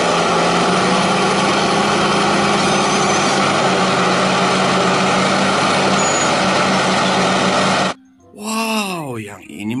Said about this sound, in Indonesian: Wah, ada bulldozer,